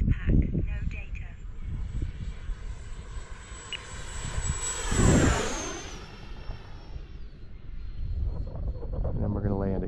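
An FMS Viper 70mm electric ducted fan RC jet makes a flying pass, its high whine rising to a loud peak around the middle as it sweeps close overhead and then fading away outdoors.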